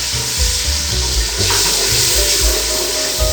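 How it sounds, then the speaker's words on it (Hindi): Water pours into a pot to begin sugar syrup for Mutanjan rice, a loud, continuous rushing splash with a steady hiss and no voices. "अब हम पहले चीनी डालने से पहले थोड़ा सा पानी डालेंगे"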